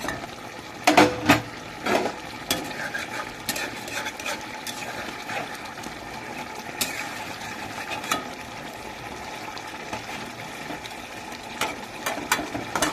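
A spatula stirring fish curry gravy with added water in a pan: soft scraping and clinking of metal against the pan, with a few louder knocks early on, then quieter irregular stirring over a low simmer.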